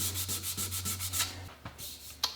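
Sandpaper rubbed back and forth on a wooden rifle stock in quick, even strokes, close and fairly quiet, ending with a few scattered scrapes.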